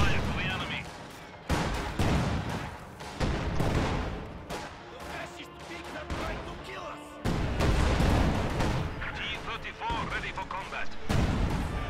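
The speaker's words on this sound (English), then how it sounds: "High explosive barrage on those Grens." High explosive artillery barrage in a World War II strategy game, with repeated heavy booms and rumbling blasts landing in irregular succession, loud and dense, mixed with gunfire and a voice talking over it.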